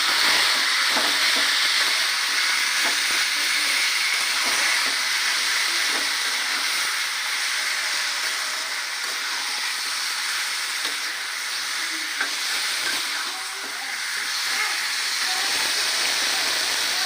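Taro and prawn curry frying in a pan while being stirred, a steady loud sizzle and hiss with scraping under it, continuous and close throughout.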